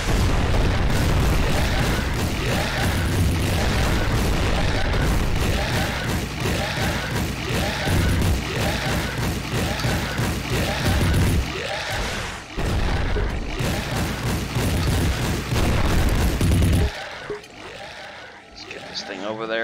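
Rocket explosions in the game Project Warlock, a dense run of loud booming blasts close together under continuous heavy action, with someone talking over them, ending in a quieter tail.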